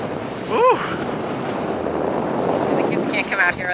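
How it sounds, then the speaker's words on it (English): Strong storm wind on a dock at Ocean City, Maryland roars steadily across the microphone, with a brief voice and some rustling near the end. "That wind is strong, Abs."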